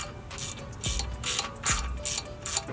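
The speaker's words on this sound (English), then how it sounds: "So I'm gonna take these 3 bolts out and then finally get this dang thing out of here." A hand ratchet clicks in repeated strokes while removing three bolts from a Ford Raptor IWE hub, giving close, sharp metallic bursts in a regular rhythm with brief pauses between pulls.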